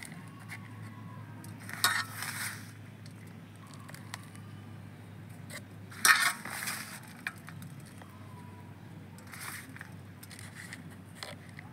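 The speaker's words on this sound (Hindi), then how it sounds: "बस अब इसमें मैं ये फर्टिलाइज़र डाल दूंगी, किनारे किनारे बस आपको डाल देना है" Granular fertilizer sprinkled around the edge of a potted hibiscus, several faint, brief bursts of gritty pattering and crackling as granules hit the soil, separated by quiet low background hum.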